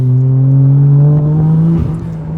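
A 1994 Toyota Chaser's engine hums at a steady, loud pitch close by, then dips and wavers as the clutch goes in and the gear drops to second, settling lower afterward with no talking.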